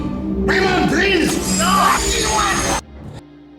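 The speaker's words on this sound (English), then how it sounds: "screams in pain" A man screams in agony while being tortured, several loud, strained yells back to back over about two seconds, then cutting off abruptly into near silence.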